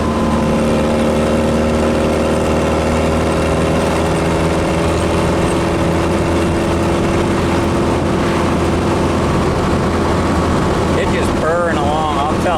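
A VW with a 1776 engine and 4-into-1 exhaust cruises at 50 mph around 2200 RPM, a steady droning hum and road noise filling the cabin continuously, with a brief louder warble near the end.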